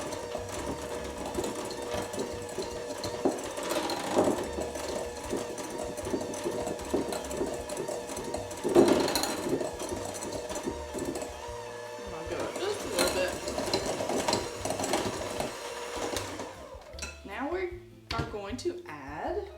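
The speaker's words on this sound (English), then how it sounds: "I'm going to use my hand mixer today, and if I can figure out how to turn it on. And we're just going to get this fluffy." An electric hand mixer whips edible cookie dough in a bowl with a steady motor whir that runs for about sixteen seconds, then stops, leaving a few clinks at the end.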